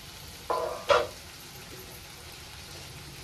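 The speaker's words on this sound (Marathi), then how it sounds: "आता पूर्ण भाजी मिक्स करून घ्यायची।" A spoon scrapes twice through a potato and vegetable mixture in a pan, giving two short, close scraping strokes over a faint, quiet sizzle.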